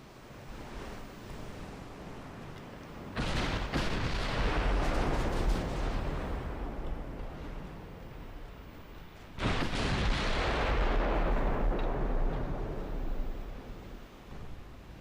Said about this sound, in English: We are getting rather good at this whole long-range gunnery bit.